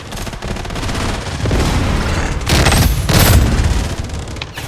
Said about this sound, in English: Watch out for a grenade!